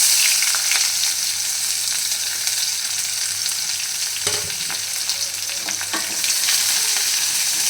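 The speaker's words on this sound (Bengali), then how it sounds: "পেঁয়াজটা হালকা ভেজে নেব" Chopped medium onion frying in a pan with chilli and whole garam masala for a Bengali mushroom, potato and capsicum curry, a steady loud sizzle with occasional stirring clinks throughout.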